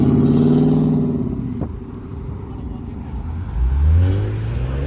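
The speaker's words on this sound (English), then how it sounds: "This car's a missile. Turbo Mustang." A turbocharged Ford Mustang at a car meet idles with a deep engine tone, dips, then revs up again with a rising roar, loud and close.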